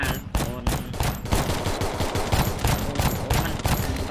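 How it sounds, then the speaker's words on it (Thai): Rapid gunfire from the Free Fire Max video game, with bursts of automatic shots rattling in quick succession, dense and loud throughout, with no talking. "ยิงกันอย่างนี้เลยหรือ"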